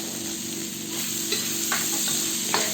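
Sliced, peeled sweet potato is stirred in a frying pan for a vegetable and shrimp dish, steady hissing fry with a few distinct scrapes toward the end, close and without speech.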